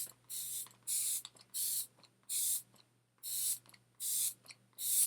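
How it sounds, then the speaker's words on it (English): Seven short bursts from a Calm and Protect Micro Mist facial spray, each a soft, close hiss of fine mist separated by brief quiet gaps, with no talking. "I love how fine the mist is on this."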